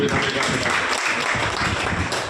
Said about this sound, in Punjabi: ਇਹਨਾਂ ਦੀ ਖੁਸ਼ੀ ਆਪਾਂ ਤਾੜੀਆਂ ਮਾਰ ਲਈਏ